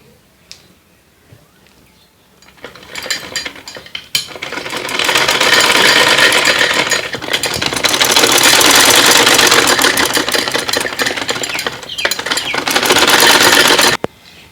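A sewing machine stitches elastic onto cloth for children's shorts, starting after a quiet few seconds and then running in a loud, continuous, rapid whirring buzz with short pauses before stopping abruptly.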